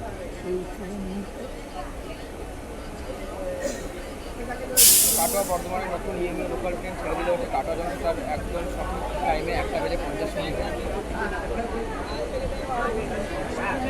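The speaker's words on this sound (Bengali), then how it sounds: "কাটোয়া জংশন রেল স্টেশনের ছ নম্বর প্ল্যাটফর্ম থেকে ট্রেন বেরিয়ে যাচ্ছে কাটোয়া বর্ধমান নতুন ইয়েমু লোকাল ট্রেন" A new Katwa–Barddhaman EMU local train pulling out from platform six at Katwa Junction, a steady rumbling drone with a sharp burst of air hiss partway through, while a voice talks over it.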